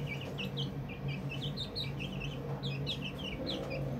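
Chickens cluck and chirp in quick, repeated bursts, several birds calling close by over a steady low hum of background noise.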